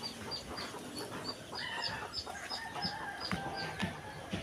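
Chickens cluck and chatter nearby in a busy, overlapping flurry, with sharp high chirps of newly hatched chicks repeating throughout.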